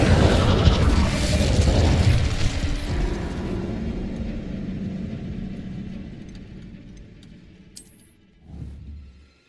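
An Incendio fire spell in Hogwarts Legacy bursts with a loud roaring, explosive rush that slowly fades over several seconds, followed by a faint tinkling ring and a short low thud near the end.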